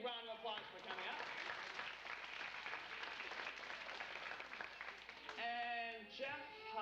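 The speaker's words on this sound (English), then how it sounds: "let's give Jeff a big round of applause for coming up" At a children's magic show, the audience claps for a young volunteer named Jeff as he comes up on stage. Dense applause lasts several seconds under the moderate hum of the room, then a voice cuts in near the end.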